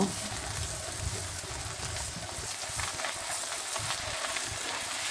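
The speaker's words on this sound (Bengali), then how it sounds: "এখন এটাকে ভালোভাবে একটু ভেজে নেব" Ginger paste and Eid sacrificial meat fry in a pan for kala bhuna, a continuous close sizzle and crackle with faint stirring underneath.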